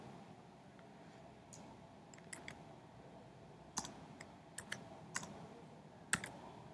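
Sparse keystrokes on a computer keyboard while code is written, faint clicks arriving singly and in small bursts against a quiet room background.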